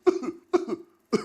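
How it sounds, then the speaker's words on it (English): A person coughing in a studio, three loud, close, separate coughs with short gaps between them and no talking. "just go to the studio and just sit down there and begin to cough"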